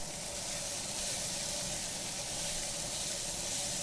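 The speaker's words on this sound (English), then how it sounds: "This is frying up so good now that we put the peppers in." Peppers sizzle in a frying pan for a Thai basil beef bowl, a steady, even hiss that continues on its own throughout.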